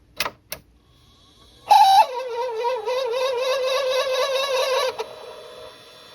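A noisy Sega Dreamcast disc drive spins up with a loud whirring burst, then settles into a steady, wavering high-pitched whine for about three seconds before cutting off, preceded by a couple of brief clicks.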